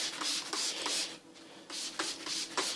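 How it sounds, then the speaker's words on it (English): Star San sanitizer is sprayed in a series of soft, hissy bursts from a hand spray bottle, several quick pumps in two clusters with a short pause between, close and fairly quiet. "I've just sprayed this with Star Sand, might as well do it again"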